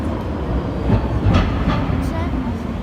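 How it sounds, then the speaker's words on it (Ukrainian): Vienna metro train arriving at a station, a loud rumbling roll with rattling wheels and a broad rushing noise close by that swells and fades over a few seconds. "Це наш поїзд."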